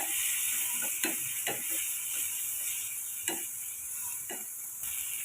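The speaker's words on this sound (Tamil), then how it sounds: "கொஞ்சமாக வெங்காயத்துக்கு தேவையான அளவுக்கு உப்பு சேர்த்துட்டு வதக்கி விட்டுருங்க ஒரு ரெண்டு நிமிஷம் வதக்கி எடுத்தால் போதும்" Onions with salt and cumin powder sauté in a pan: a steady, faint, hissy sizzle with occasional soft stirring scrapes, no voices.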